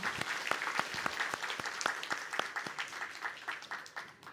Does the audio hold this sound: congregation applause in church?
yes